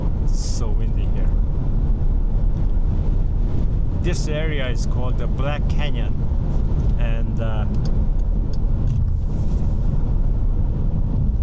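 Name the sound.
strong wind at Black Canyon near Hoover Dam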